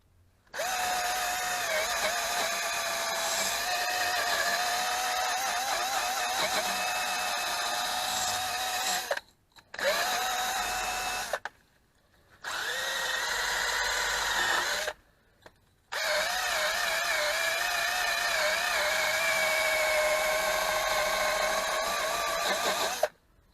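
Power drill spinning a cleaning attachment against a car wheel rim while fitting 16-inch Ouragan rims on a Peugeot 206 HDI, a loud steady high whine that stops briefly three times before running on again.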